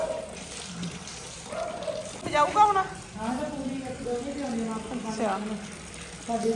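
Water runs and splashes steadily from a tap or pipe as buffaloes drink on a dairy farm in cold weather, under nearly constant talking nearby.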